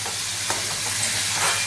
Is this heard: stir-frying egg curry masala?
yes